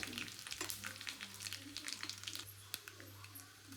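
Dried red chillies frying in oil alongside garlic at home, with a busy, steady crackling sizzle, scattered sharp pops and a constant low hum beneath.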